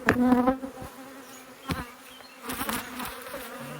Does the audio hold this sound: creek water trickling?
no